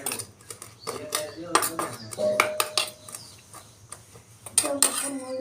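A utensil stirs food in a metal pot, making repeated clanking, scraping knocks in an irregular rhythm, close and fairly loud, while a person speaks over it.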